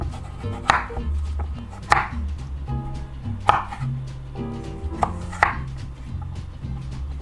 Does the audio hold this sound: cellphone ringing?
no